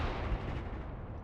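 In the Mius Front war game, a machine gun fires toward a T-34 tank as a dense, loud, rumbling burst of heavy gunfire lasting just over a second, with deep low booms under the crackle.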